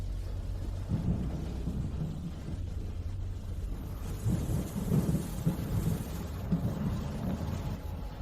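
Rain falls steadily with low rumbling thunder rolling through, a continuous wash of noise with the rumble swelling midway and no talking.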